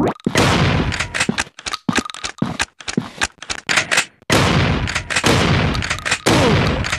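Bursts of gunfire from the zombie shooter game Fire Strike, loud rapid volleys and single sharp shots separated by brief silences, with a long sustained barrage toward the end.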